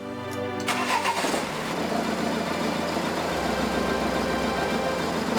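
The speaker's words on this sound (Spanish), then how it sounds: "ahora nos pide que arranquemos el motor" A car engine cranks briefly and catches during a battery and alternator test, then settles into a steady, loud idle for several seconds with no talking.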